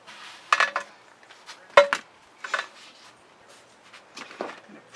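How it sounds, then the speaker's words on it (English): A metal spatula scrapes leftover fluid acrylic paint off a plastic edge catcher in a few short, sharp scrapes and clicks with quiet pauses between them, close up and alone. "I'm going to grab my spatula and take off all the paint that I can get from this edge catcher"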